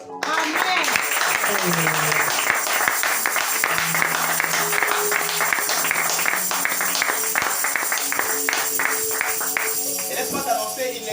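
A church congregation claps steadily in praise of the Lord throughout, mixed with worship music and singing voices.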